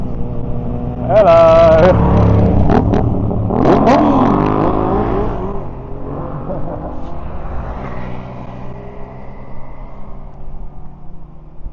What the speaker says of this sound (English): there's a load of bikers coming in. There's a load of speedy bikes.